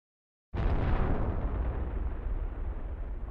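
A weapon blasts a planet in the space destruction game Solar Smash: after half a second of silence, a sudden heavy explosion hits, then a deep rumbling roar that stays loud before slowly fading.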